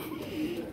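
Pigeons cooing close by in a loft, a short soft throaty coo that lasts under a second at low volume with no voices over it.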